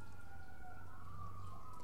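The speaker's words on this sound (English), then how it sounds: "I'm also aware of the sirens, you know, in the background" Emergency vehicle sirens wail steadily in the distance, a faint continuous rising and falling tone with no talking over it.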